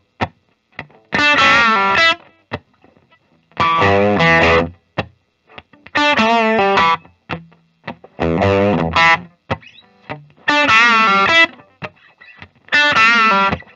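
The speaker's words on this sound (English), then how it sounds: "I'm actually going to start with kind of that crunchy, dirty tone that he's known for on a lot of his songs." A 2021 Gibson Custom Shop Murphy Lab 1964 Firebird electric guitar on the bridge pickup plays a crunchy, distorted tone in short riffs and chord phrases, separated by brief pauses, loud and close.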